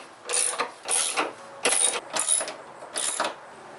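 Socket wrench removing 13mm bolts from the cross brace of a Chevrolet Impala, five close, distinct bursts of ratcheting clicks with brief pauses between them.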